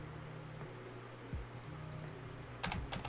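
Keys clatter on a cracked computer keyboard while someone codes a school app, a few soft, quiet taps over a low fan hum, ending in a brighter burst of clicks.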